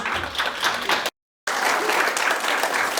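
Wedding guests applaud the newlyweds in loud, dense clapping that cuts off briefly to silence, then resumes just as strongly.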